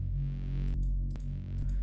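A heavy wavetable synth bass without EQ plays deep, thick sustained notes with bright, buzzy upper harmonics opening up in short swells, loud and alone.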